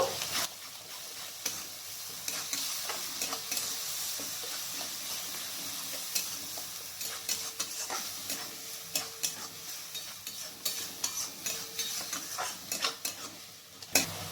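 Soybean curry stirred in a pan after water and a little sugar go in, a steady sizzle with repeated scraping strokes of a spoon against the pan, close and continuous throughout.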